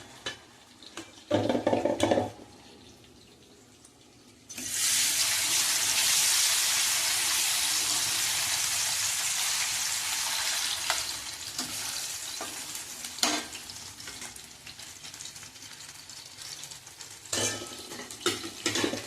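Pieces for multi 65 masala dropped into hot oil in a pan, bursting into a loud, broad sizzle that stays up for several seconds and then slowly dies down, with clinks of utensils before and after, close by, with no talking.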